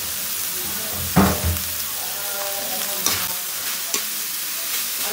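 Bean sprouts for lumpia hit a hot pan with a burst of sizzling, followed by steady frying hiss, stirring scrapes and a few sharp utensil clacks against the pan.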